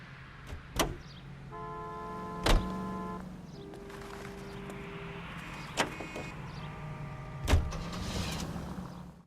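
A car in LA Noire Remastered is heard from the inside, with a low engine hum under several sharp thumps and clunks and a few electric whirring tones, without any voices.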